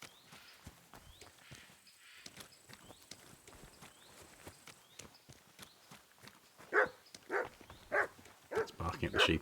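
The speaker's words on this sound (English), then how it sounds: "Barking at the sheep, I think." A dog barks at sheep in Kingdom Come Deliverance 2, a series of sharp barks near the end over soft footsteps and hoof-like clopping, with a voice talking quietly throughout.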